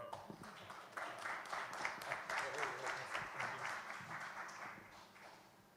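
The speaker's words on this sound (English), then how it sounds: "A big applause for him, please." Modest audience at a Sovereign Day conference in Buenos Aires claps for a speaker, a fairly faint scattering of individual hand claps building and then tapering off over several seconds.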